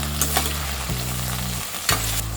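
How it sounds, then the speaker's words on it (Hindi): Vegetables and green peas fry on a low flame for soya pulao, a close, steady sizzle with a few sharp stirring scrapes at regular moments. "लो फ्लेम में फ्राई कर लेंगे।"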